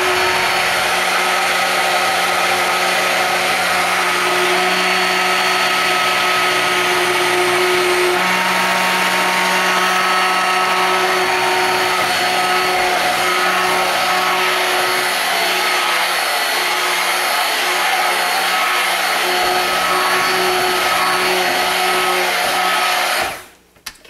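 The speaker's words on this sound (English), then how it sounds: "Let's just blend that a bit more." A blender whirs steadily, loud and continuous, as it mixes thick handmade soap batter toward trace, running alone for about 24 seconds before cutting off abruptly at the end.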